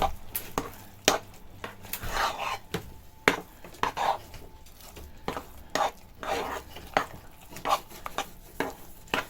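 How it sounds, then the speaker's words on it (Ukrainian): A cheese mixture for an Easter cheese paska is stirred by hand in a bowl, a spoon scraping and clinking against the sides in steady, repeated strokes close up. "І ось тепер це необхідно добре поєднати в однородну суміш."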